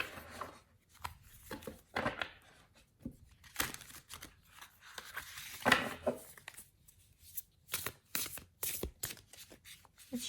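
Quiet, irregular riffling and slapping of a somewhat bulky tarot deck, several shuffles in a row with soft papery bursts and short pauses between them.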